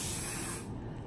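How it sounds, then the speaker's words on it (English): A single close burst of aerosol spray hisses loudly for about half a second and then fades out. "Did you just spray my phone?"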